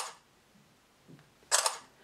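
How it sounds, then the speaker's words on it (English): A phone camera in Korea, where the shutter sound is mandatory and cannot be switched off, fires twice: a crisp click near the start, then a louder click-burst about one and a half seconds later, in an otherwise quiet room. "when you take a picture, the shutter noise goes off"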